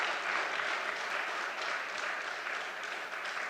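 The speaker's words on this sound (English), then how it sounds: "Let's give her a special Belmont round of applause." Sustained crowd applause at a PNM post-budget political public meeting, a steady wash of clapping from many hands lasting several seconds without voices.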